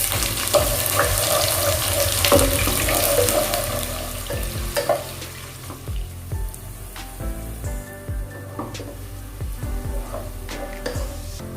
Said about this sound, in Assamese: আৰু মই এতিয়া পিঁয়াজখিনি দি দিছোঁ।